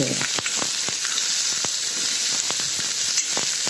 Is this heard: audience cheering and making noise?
no